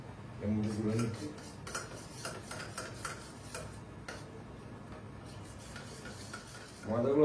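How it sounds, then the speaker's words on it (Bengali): A spoonful of flour is stirred into a mixture for a banana-flower ghonto, giving light scraping and clinking of a spoon against a bowl, steady and close, with louder rattling bursts near the start and end. "এবার 1 চামচ ময়দা আমি এর মধ্যে গুলে নিচ্ছি।"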